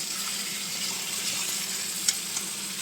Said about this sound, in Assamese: এতিয়া মই আৰু অলপ ফ্ৰাই কৰি ল'ম।